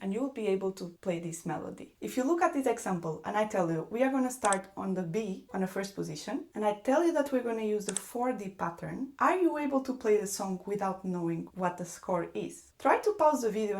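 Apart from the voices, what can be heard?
No everyday noises stand out.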